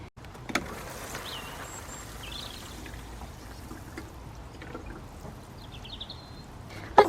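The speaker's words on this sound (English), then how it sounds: "Now I'm going to water it to try and stop it from blowing away." Water poured from a watering can onto a straw-covered allotment bed outdoors, a steady continuous splashing trickle at close range, with faint birdsong in the background.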